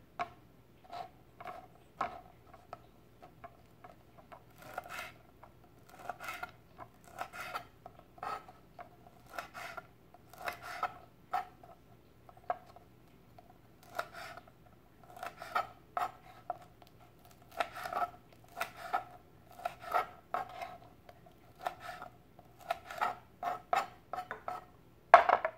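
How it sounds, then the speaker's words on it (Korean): Jujubes are chopped finely on a board, with many quick, dry, close knife taps and scrapes repeating irregularly throughout, faint overall. "대추를 잘게 자릅니다."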